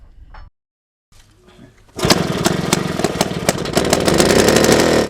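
An old engine starts up and settles into a loud, rough, chugging run with steady rapid knocking, close by.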